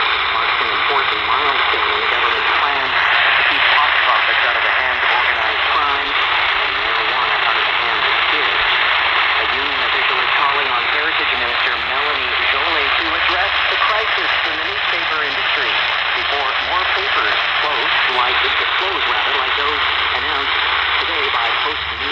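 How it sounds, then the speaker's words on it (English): A Victoria radio station received through a homemade 5-inch FSL antenna, a loud continuous broadcast with voice and program audio under a steady layer of static and hiss. "FSL that I just made for Colin will boost up this Victoria station signal."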